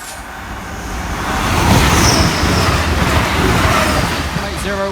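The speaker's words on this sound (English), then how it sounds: "Here's the Peterborough train." A passenger train rushes past close by at Barnby level crossing, a swelling roar of wheels and air that peaks midway and stays loud, with a voice briefly audible underneath.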